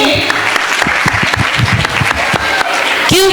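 An audience at an inter-school dance competition organized by 24 Pride Club gives hearty applause for Dr. Richa Jain, dense clapping filling the room, with a short tonal sound near the end.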